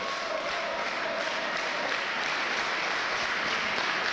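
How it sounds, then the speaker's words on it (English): A crowd at a wrestling match for the NWA Mid-West X Division Championship cheers and claps in a steady, loud roar that fills the whole stretch without a break. "Jay Lethal getting the crowd right into this match"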